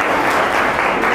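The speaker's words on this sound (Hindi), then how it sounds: "जोरदार तालियां बजाइए" A large audience at a corporate brand leadership event breaks into loud applause, a dense, even burst of clapping that fills the short moment on its own.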